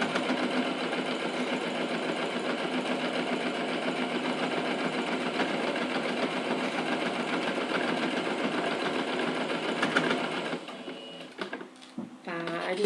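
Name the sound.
sewing machine stitching a case, backstitching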